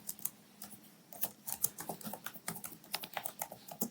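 Java code being typed on a computer keyboard, a steady run of close, crisp key clicks in an uneven rhythm with brief pauses, quiet room, no talking.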